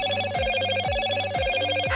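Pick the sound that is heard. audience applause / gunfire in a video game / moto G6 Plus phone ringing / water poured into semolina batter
moto G6 Plus phone ringing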